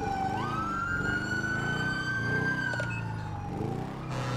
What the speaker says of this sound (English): That's definitely my siren that was going off.